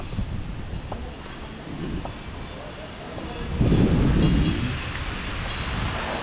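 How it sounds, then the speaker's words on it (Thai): Strong wind gusting at an outdoor temple site in Nakhon Phanom during festival preparations, a steady broadband roar that swells louder partway through, with faint rumbling and no clear voices. "โอ้ลมแรงมาก"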